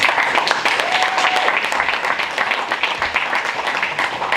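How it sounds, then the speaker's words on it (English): Audience applause after a sales presentation, a steady wash of clapping that runs the whole time at moderate level, with a faint murmur of voices mixed in. "Now I think that deserves a round of applause."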